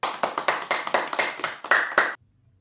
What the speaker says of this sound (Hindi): आपने ठीक चीज़ पर ताली बजाई